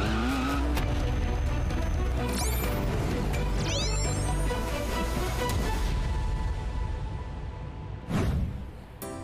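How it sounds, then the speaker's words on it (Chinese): A flying motorcycle that converts between a motorbike and an aircraft roars loudly and continuously, with tire squeal and skidding bursts and sweeping whines partway through, then a sharp crash-like burst near the end. "会飞的摩托车"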